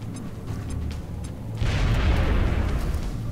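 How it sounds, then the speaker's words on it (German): A vehicle explodes in the strategy game XCOM Long War: a low game rumble runs for about a second and a half, then a loud, sustained blast of broad noise swells and holds to the end. "Vielleicht schaffe ich, dass der Wagen sofort explodiert."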